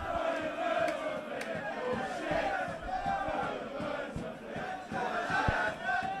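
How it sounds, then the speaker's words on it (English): Football supporters singing in the stands at a Varsity men's match between Cardiff Met and the University of Bath: a sustained, fairly loud massed chant from many voices, carrying steadily with some crowd noise. "And there's certainly a lot of singing down below us"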